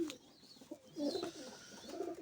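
Pigeons give soft, low cooing calls at close range over quiet background, with a few faint rustles between calls.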